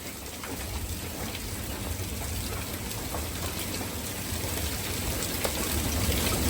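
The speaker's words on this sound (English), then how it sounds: "That's at least quarter size hail." Quarter-size hail pouring down steadily during a severe storm, a dense continuous hiss and clatter at a constant close level with scattered sharper impacts throughout.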